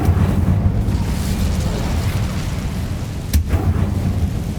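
A fiery Incendio spell cast in Hogwarts Legacy, a dense roaring burst that holds steady, with a sharp crackling flare near the end.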